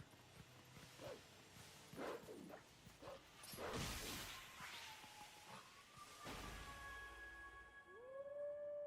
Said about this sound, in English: It's like Waterproof Teabag howling at the second Howling Stone